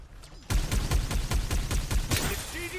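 Rapid bursts of gunfire in Farlight 84 battle royale gameplay, a quick rhythmic series of close shots after a sudden start, with faint voices in the background.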